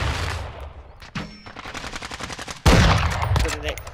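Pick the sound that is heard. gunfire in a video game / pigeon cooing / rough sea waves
gunfire in a video game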